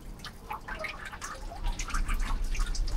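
Water runs and splashes from an automatic sensor tap into a basin, a close, bubbly trickle that grows a little stronger toward the end.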